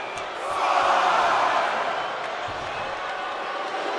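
Arena crowd cheering during a WWE 2K24 wrestling match, a broad roar that swells early and then holds steady in the background.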